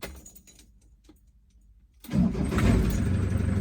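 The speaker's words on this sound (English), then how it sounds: "I'll turn the engine off and we'll see if it'll start again." An engine in a 30-plus-year-old ice cream van cranks and catches after a quiet spell, then settles into a loud, steady idle.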